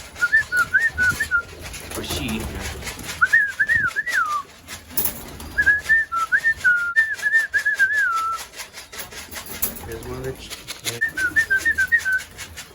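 Racing pigeons in a loft give soft, wavering calls in repeated short phrases separated by pauses, close by and fairly clear, with occasional faint rustling and a brief voice in between.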